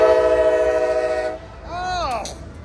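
A CSX freight train with a slug locomotive sounds a loud, sustained multi-tone horn that cuts off abruptly, followed by quieter rumbling and a brief falling, wavering tone.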